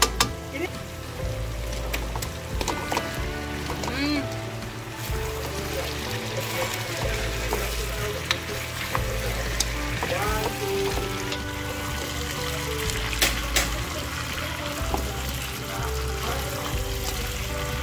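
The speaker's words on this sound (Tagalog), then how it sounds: "Ito na ang ating sauce sa ating chili buttered chicken." Chili buttered chicken frying in sauce gives a steady sizzle and bubbling that continues throughout, with occasional clinks of utensils and some voices in the background.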